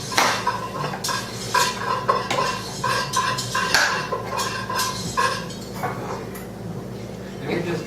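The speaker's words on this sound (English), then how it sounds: "And we just dump these in one at a time, stirring the whole time." Mac and cheese stirred in a pot, with steady scraping and clinking of a spoon against metal close by, a faint sizzle beneath and someone talking over it.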